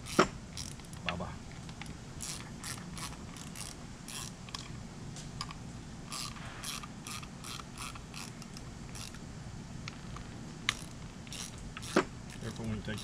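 Bolts are worked loose from the lift pump of a 2006 Mercury Optimax 225 outboard, with a steady stream of quiet ratchet clicks and a few sharper metallic taps over a low background hum.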